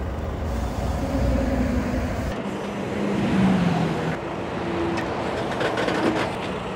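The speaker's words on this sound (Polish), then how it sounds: "No i teraz wystarczy pompę włączyć i podnieść trochę balkon" A truck's hydraulic pump runs to lift the deck of an oversize-transport semi-trailer, giving a steady, close mechanical drone with a low hum that holds throughout.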